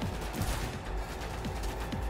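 Gunfire in the Cyberpunk video game, a dense, steady stream of shots and bursts lasting the whole moment at a fairly loud level, with no voices.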